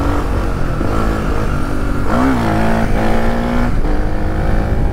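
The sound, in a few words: Suzuki DR 350 motorcycle engine revving while wheeling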